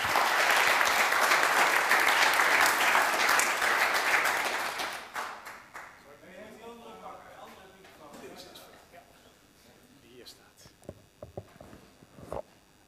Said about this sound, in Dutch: En dan geef hem een warm applaus.